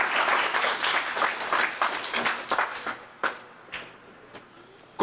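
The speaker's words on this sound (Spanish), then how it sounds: "¡Que se escuche el aplauso para la candidata!" An audience applauds a pageant contestant, with brisk clapping that starts full and quickly dwindles to a few scattered, isolated claps.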